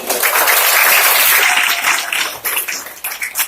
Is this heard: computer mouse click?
no